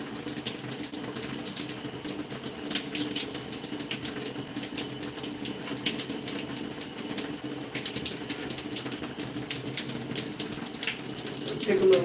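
Tap water runs steadily into a basin during hair washing at a salon-style session, a close, continuous gushing spatter that lasts throughout with no clear pauses.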